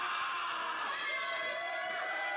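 A crowd at an independent pure wrestling show cheers on Brian White, a sustained roar of shouts and whoops with a commentator talking over the top.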